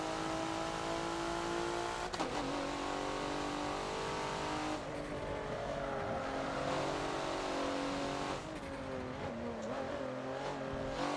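A race car in the Forza video game laps the Hockenheimring short track, its engine droning loudly and steadily, with pitch rising and falling through gear changes and corners, no talk.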